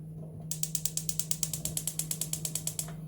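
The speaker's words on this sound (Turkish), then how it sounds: "Ve ocağımın altını açıyorum." Rapid rhythmic clicking of a gas stove igniter as a home kitchen burner is switched on, about twenty evenly spaced sharp ticks over a steady low hum, close and clear with no talk.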